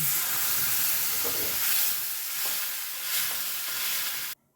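Water poured into a pan of cooked-down tomato masala, a loud rushing sizzle and hiss that surges in waves and swells several times, close up, then cuts off abruptly.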